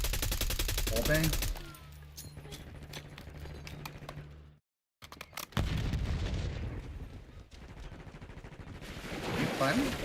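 Gunfire through a wall in the video game Call of Duty Black Ops 6 on the Nuketown map: rapid bursts of automatic shots and booms, dense and loud, broken by a brief silence before firing resumes.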